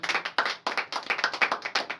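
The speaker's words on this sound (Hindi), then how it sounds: "जोरदार तालियां उनके लिए।" Brisk rhythmic clapping from a small audience at a celebration for a team leader, close and crisp with even, fast beats over two seconds and no talk.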